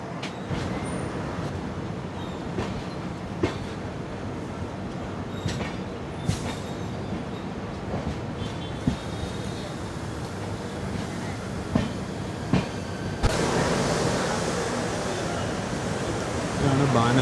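The 12258 Garib Rath Express pulls out of Banaswadi station, heard from inside an AC Economy coach as a steady rumble with scattered clicks and clanks of wheels over rail joints that thicken toward the end.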